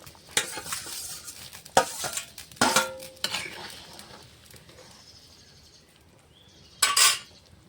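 Lightly fried paneer goes into a simmering curry in a pan: several sharp clatters and scrapes of a spoon against metal, spaced out, with a faint sizzle between them.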